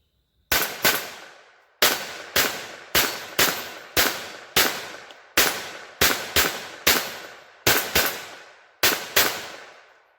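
A Kel-Tec P17 pistol fires CCI Mini Mag 36 grain hollow points: thirteen sharp, loud shots, with each echo decaying before the next, coming in irregular groups of two and three with brief pauses between.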